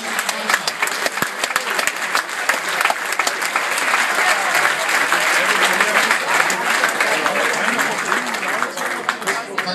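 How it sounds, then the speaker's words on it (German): A crowd applauds at a football club's season-opening training session in Koblenz, welcoming a new player; dense, continuous clapping fills the whole stretch, close and loud, with a voice speaking over it. "er versteht noch nicht alles, aber den Applaus wird er verstehen, Takuya Takahashi, herzlich willkommen."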